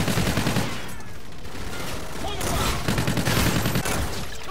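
Rapid automatic gunfire in the shooter Call of Duty: Infinite Warfare, loud dense bursts with brief lulls, heavy in the low end.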